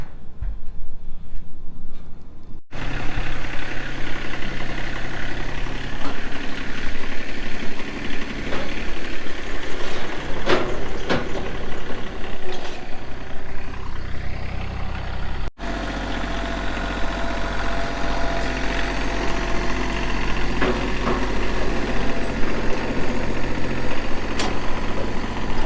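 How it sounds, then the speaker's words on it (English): A tractor fitted with an 8-inch post auger idles nearby, its engine a steady, loud, low rumble with a rough knocking vibration that runs on without a break, and no talk over it. "And then got the tractor. It's got I believe an 8-inch auger on the back of it"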